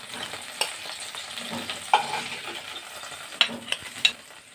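Hilsa fish paturi fries slowly in a pan with a soft, steady sizzle, broken by a few sharp light clinks and scrapes of a utensil against the pan.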